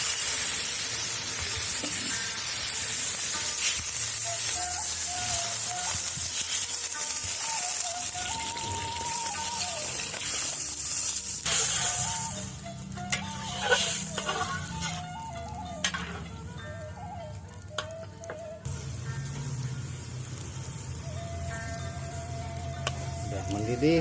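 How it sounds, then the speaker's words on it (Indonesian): Young jackfruit gudeg cooks in a pot, a steady bubbling sizzle with a wet, rain-like patter that stays loud throughout, over faint background music. "Sudah mendidih saudara-saudara"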